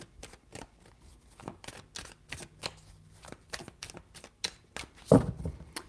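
Tarot cards are shuffled in rapid, crisp riffles, a string of short papery snaps and flutters ending with a louder thump as the deck is squared.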